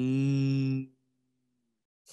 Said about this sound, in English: I can see a big animal. She is a cow.